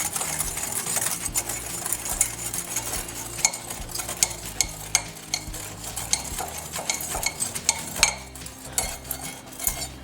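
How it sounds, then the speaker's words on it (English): Sugar and cornstarch whisked together in a large bowl, a busy, continuous rattle of quick metallic ticks and scrapes close up, with no voices. "Now I'm going to whisk this all together."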